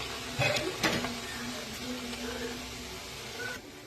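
Noodles frying for American chop suey, a steady sizzle with stirring and scraping in the pan, two sharper clatters near the start, no voices.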